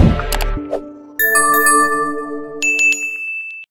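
A bright notification chime rings out clearly alone: a low swoosh-like tone, then a sustained two-note ding-dong with shimmering overtones, ending in a higher sparkling bell ping that fades out.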